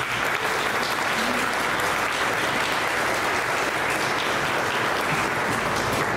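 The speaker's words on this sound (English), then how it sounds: "Let's give them a big round of applause" Audience at an LGBTQ awards gala in Iowa gives a big round of applause for the One Iowa team, dense steady clapping filling the room at full volume throughout with no break.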